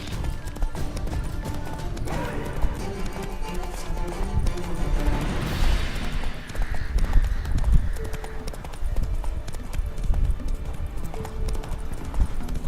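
Horse hooves clip-clop at a gallop across the ground in The Witcher 3, a steady rhythmic pounding that runs the whole time, with game music and ambient noise underneath.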